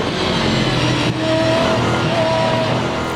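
On-board engine note of a big Aston Martin GT race car during a rolling start at Assen, a loud, steady roar with a brief dip and a thin whine that rises over it.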